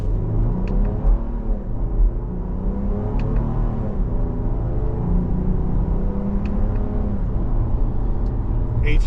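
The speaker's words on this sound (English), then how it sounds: "Eight-speed shifting smoothly, no problem at all." A 2025 Jeep Grand Cherokee Altitude 4x4 engine rumbles from inside the cabin, with revs rising and falling smoothly through eight-speed paddle upshifts under a steady low drone.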